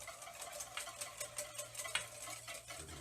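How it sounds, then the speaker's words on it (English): Whisk stirring a honey mixture in a bowl, quick rhythmic clinking and swishing strokes repeating steadily for about three seconds, close and soft. "So we're gonna whisk this."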